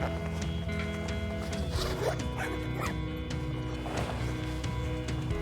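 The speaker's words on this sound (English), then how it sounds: "So you've just got a zip." A zip being drawn open to free the removable liner from a classic leather motorbike jacket, brief ripping bursts close by over a steady background hum.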